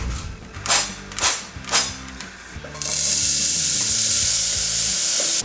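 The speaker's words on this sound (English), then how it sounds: "Chop up the onions, jalapenos, and scallions and start sauteing them with some olive oil." Onions, jalapenos and scallions are tossed into hot olive oil, a few clanks of utensils and pan giving way to a steady, loud sizzle that holds to the end, with a low hum beneath.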